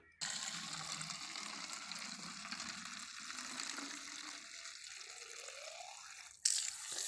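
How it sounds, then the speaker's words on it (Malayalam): Water running steadily into a spray bottle for an orchid care mix, a continuous close gush whose pitch rises as the bottle fills, then stops abruptly. "ഇതിൽ നമുക്ക് വെള്ളം കൂടെ ഒന്ന് നിറച്ചെടുക്കാം"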